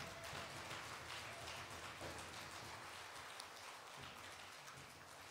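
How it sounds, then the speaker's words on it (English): Applause for the teachers at a Head Start graduation ceremony, a continuous dense wash of clapping from a crowd, faint and distant, with no pauses. "give these people a round of applause."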